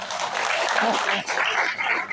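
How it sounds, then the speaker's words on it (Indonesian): A congregation claps together at an outdoor Ascension Day worship service in Bandung, making a steady, dense wash of applause that holds for about two seconds with small swells. "Kita tepuk tangan buat Vio juga."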